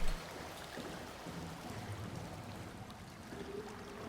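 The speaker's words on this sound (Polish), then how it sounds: "Że woda płynie to chyba dobrze, co?" Water flows steadily in the video game Soma, a constant rushing stream that holds an even level throughout, with no voices over it.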